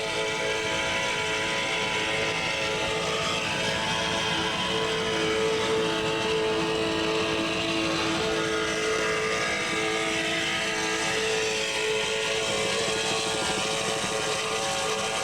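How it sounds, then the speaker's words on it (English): Racing powerboats with fuel-injected 600-horsepower KS&W engines on aluminum Donovan blocks, a continuous loud engine drone with steady tonal hum that holds evenly for the whole stretch, with no talk over it. "Engines by KS&W, aluminum Donovan blocks, fuel injected, 600 horsepower apiece."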